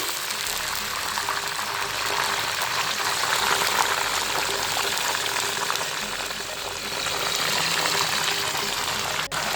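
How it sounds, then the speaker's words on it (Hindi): Steady sizzling and bubbling as water is poured into a hot pot of onions for beef pulao, continuous and close, with a constant hissing wash throughout and no speech. "पानी डाला थोड़ा सा"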